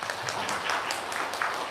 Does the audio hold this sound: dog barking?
no